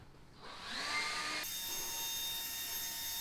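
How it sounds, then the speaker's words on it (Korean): An air blower spins up with a rising whine and then roars steadily, a loud continuous rush of air blowing dust off a waxed car panel. "송풍기를 한번 불어볼게요"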